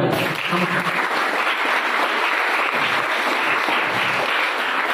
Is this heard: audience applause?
yes